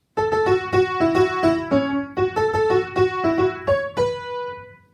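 Solo piano plays the opening sections and pre-chorus of a song, clear repeated chords and a bright melody in a steady rhythm, close and loud, ending on a ringing sustained note.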